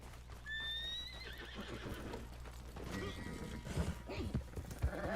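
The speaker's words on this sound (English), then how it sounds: "Oh, wait, it's not my horse." Horse in the Red Dead Online video game gives a loud, shrill whinny near the start, then hooves clip-clop irregularly, with a few heavier thuds toward the end; a voice speaks over part of it.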